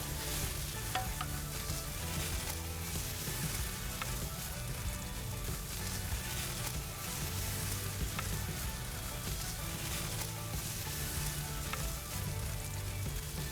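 Butter sizzling and spitting steadily on a grill beneath oysters, a dense, continuous frying crackle with scattered pops, fairly close and consistent throughout, with no talking.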